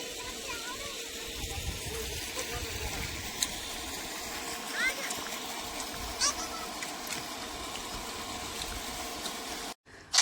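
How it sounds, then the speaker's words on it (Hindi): Irrigation water runs steadily off a farm field down toward a canal in rural India, a continuous close rushing and trickling wash with faint splashes and a short pause near the end. "तो देखिए अभी पानी मेरे यहाँ मतलब जो पानी है ना वो पूरा नीचे चले जा रहा था, नहर के पास ही वापस चले जा रहा था"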